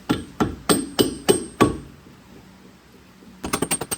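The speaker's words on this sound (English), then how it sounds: "take a rubber mallet." Rubber mallet blows knocking bushings out of a 1994 Mazda MX5 Miata rear suspension: five loud, evenly spaced strikes, a pause, then a quick burst of lighter taps close by.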